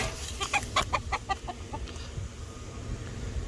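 Chickens cluck in a quick burst of short, sharp calls, then quieter scattered clucks fade against a low background rumble.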